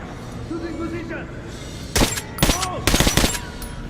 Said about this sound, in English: Try shooting for the center of the regular dummies.